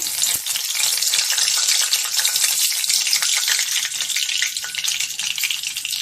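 Bay leaf tossed into hot mustard oil for tempering, crackling and sizzling sharply at close range, loud and dense with rapid popping, steady for the whole stretch.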